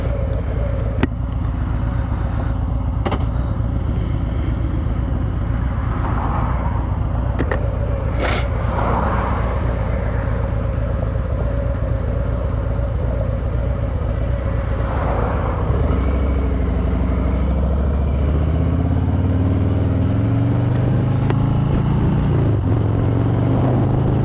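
A motorcycle rides along rural roads in South Carolina's Midlands, giving a continuous close engine drone with wind rush. Partway through, the engine note rises and climbs steadily as the bike speeds up.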